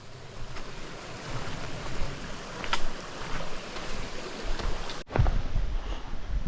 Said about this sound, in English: Oh, some pretty running water.